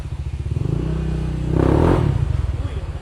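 A CVT motorcycle with weak acceleration revs during a test, its engine throbbing in a steady pulse that swells to a peak midway and then settles back, loud and close, with no talk.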